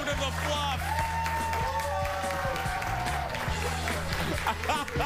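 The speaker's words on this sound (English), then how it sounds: "keep applauding for her human Gina, everybody." Studio audience applauding at a TV talk show, steady loud clapping and cheering throughout, with a host's voice talking over it.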